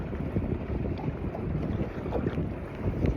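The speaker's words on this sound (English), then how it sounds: "This wind's a little sketchy." Wind buffeting a microphone in a steady broadband rumble while trolling from a boat on a lake in Utah, continuous and fairly loud with no talk.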